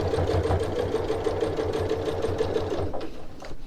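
A sewing machine runs steadily and close while sewing reinforcing stitches on a tote bag strap, with a rapid even rhythm that slows and stops just before the end.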